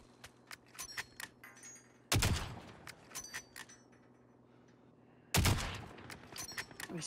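Gunfire in the battle-royale shooter Warzone: several sharp bursts ring out amid a busy stretch of game noise, with two louder, closer volleys standing out and smaller pops scattered between them.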